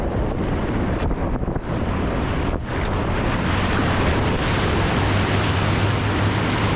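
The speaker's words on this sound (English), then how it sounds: "Feels pretty smooth just paddling." Steady broadband wash of wind and water around a Soul Kayaks Hammer kayak being paddled, loud and continuous with no distinct strokes standing out and no talk.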